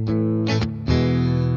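A Fender American Ultra Telecaster electric guitar with its pickups in the parallel setting plays loud, distorted sustained chords, a few struck in a row with brief breaks between them.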